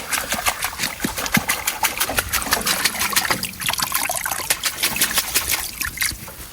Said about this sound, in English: Roll out the mat, straight in the pan. Give it a good shake.